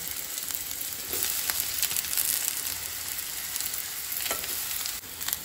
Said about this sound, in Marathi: आमची सय जी आसा पळय ती आतां आमी थोडा वेळ मातशी हितून बरी भाजून घेवया.